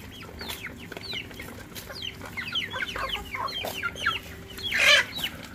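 Chickens cluck in a series of short, rising calls at a household poultry setup, moderately close, with one louder, harsher squawk near the end and no speech over them.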